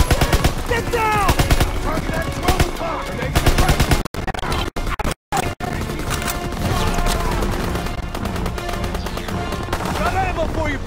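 Machine gun fire in the World War II shooter Call of Duty WWII: loud, dense bursts of automatic gunfire with a few brief gaps in the middle, and soldiers shouting through the firefight.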